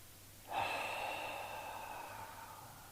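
A long, steady breath drawn in and out during a guided yoga exercise, soft and close, sustained for about two and a half seconds with no talking.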